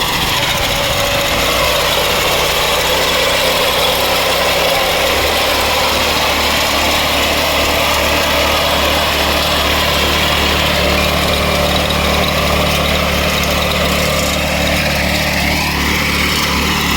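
A Kisan Kraft crop reaper's small engine runs continuously and loudly while harvesting soybeans, a steady droning rattle with shifting pitch as the machine works.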